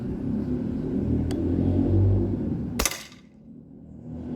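A Crosman 2240 air pistol converted to high-pressure air fires one sharp, close crack over a background rumble, followed by a brief fading tail.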